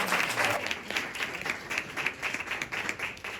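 Audience applause at a book presentation, a steady patter of many hands clapping at moderate level, with a voice briefly over the start.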